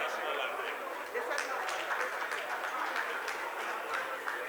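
Audience at a commemorative symposium applauding, continuous dense clapping heard from within the hall, fairly steady and moderate throughout.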